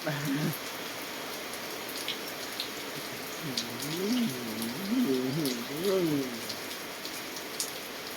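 Steady rain patters on a surface throughout, with a voice murmuring briefly in the middle and a few drips standing out.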